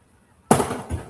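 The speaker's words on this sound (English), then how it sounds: "There goes the fireworks." A single fireworks burst goes off sharply after near silence, a loud broadband crack that rings and crackles on with a second smaller pop near the end.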